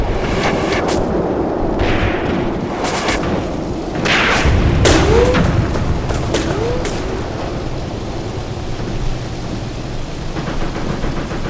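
Artillery rounds landing around a WW2 tank battle in the Tunisian ruins of 1943, a rolling series of heavy booms and crackling impacts over a constant rumble, some bursts near and sharp, others distant.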